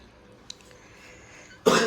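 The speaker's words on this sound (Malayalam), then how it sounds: "ചുമയാണ്" After a near-silent pause, one short, harsh cough from a person with a cold and fever bursts out close by at the very end.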